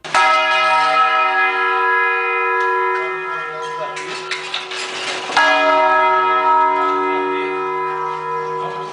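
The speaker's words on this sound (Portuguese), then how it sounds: "As igrejas têm um interessante e peculiar sistema de comunicação através dos sinos" Church bells ring with long, sustained tones that overlap and resonate, loud and clear, with a brief noisy stretch midway.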